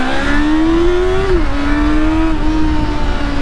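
A Honda CB400 Super Bollo'r motorcycle engine revs steadily and loudly up close, its pitch climbing, dipping briefly, then holding high as it pulls hard.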